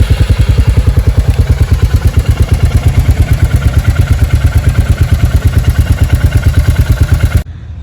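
A Royal Enfield Hunter 350, a four-stroke single-cylinder motorcycle, fires up and idles loudly and close, a fast even thumping beat that holds steady for several seconds before cutting off abruptly.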